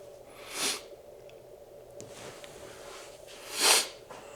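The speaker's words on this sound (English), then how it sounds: "I gotta blow my nose." A person blows their nose twice, each a short, sharp nasal burst, the second louder and closer, over a quiet background with a faint steady hum.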